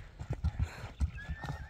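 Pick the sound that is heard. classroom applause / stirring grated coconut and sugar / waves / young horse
young horse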